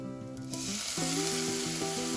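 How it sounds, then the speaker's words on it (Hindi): Green peas with ginger, garlic and chilies sautéing in a hot pan give a steady, continuous sizzle throughout, mixed with tonal background music. "तो हम 2 से 3 मिनट तक सौटे कर लेंगे।"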